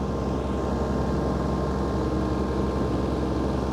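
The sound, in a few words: Iseki TH4335 tractor running Teagle Park 160 flail mower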